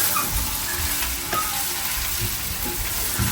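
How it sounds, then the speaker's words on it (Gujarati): Spices for a vaghar tempering sizzle and crackle steadily in hot oil in a home kitchen, a close, continuous frying hiss with small pops, with no voices. "થઈ ગયો વઘાર નહીં વઘાર થઈ ગયો."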